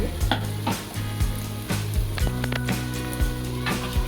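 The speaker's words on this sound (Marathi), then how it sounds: "आपण हे सर्व परतून घेऊया 1 मिनिटाकरता" Cumin, cloves, cinnamon, cardamom, garam masala, ginger and fresh coriander paste sautéing in a pan for Maharashtrian potato usal, giving a steady close sizzle broken by regular stirring knocks, with a tonal hum running underneath.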